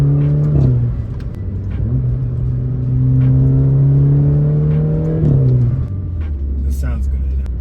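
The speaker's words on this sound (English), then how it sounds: "I hope you guys can hear those induction noises." Alfa Romeo Giulia 2.0T with an AFE axle-back exhaust and resonator delete, its engine revving and climbing through gears with a steady loud drone and audible induction noise, with pitch shifts at each rev change.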